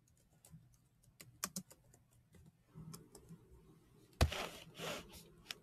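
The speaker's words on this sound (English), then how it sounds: "I'll type it in." Typing on a computer keyboard nearby: sparse, irregular clicks and taps, quiet overall, with a sharper louder burst of keystrokes near the end and no talking.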